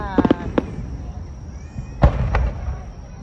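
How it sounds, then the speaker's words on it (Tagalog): Fireworks at the Kisarazu fireworks display in Japan burst in a quick cluster of booms, then pause before a louder deep bang and another pop, with a low rumble in between and faint voices nearby. "Nasa likod ko mismo yung fireworks."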